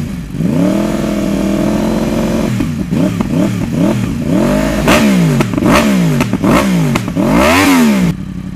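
A Yamaha R1 superbike engine revs up close and loud, starting with a steady idle, then blipping the throttle in a quick series of sharp rising and falling sweeps before cutting off.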